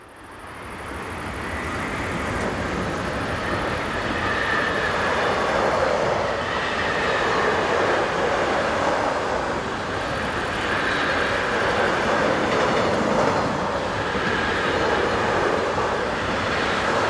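A freight train of ARS Altmann covered cars, hauled by locomotive 193805 on the Northeim–Hannover main line in Germany, rumbles past steadily at close range, a loud continuous roll of wheels and wagons throughout.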